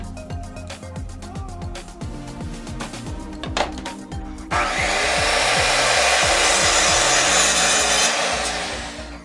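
A 1x4 wooden board is cut with a quick, rhythmic series of back-and-forth saw strokes. Partway through, a loud, steady broadband whoosh takes over and holds to the end.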